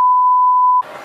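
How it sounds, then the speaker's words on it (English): A single steady electronic beep holds for under a second, loud and pure, then cuts off into faint background noise. "There'll be a beep there."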